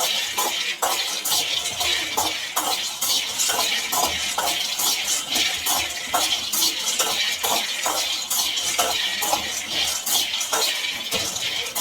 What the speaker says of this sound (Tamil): நல்லா தீயாமல் சிம்மில் வச்சு வறுத்துட்டே இருந்தால் ஈஸியாக இருக்கும்